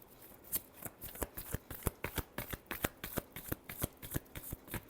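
Tarot cards being shuffled by hand: a close, fast run of crisp riffling flicks and slaps in an even rhythm, with no talking.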